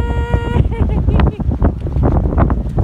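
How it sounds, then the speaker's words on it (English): Gusty, cold wind at L'Anse aux Meadows, Newfoundland, buffets the microphone with low rumbling bursts, while someone talks over it. "very cold, very windy"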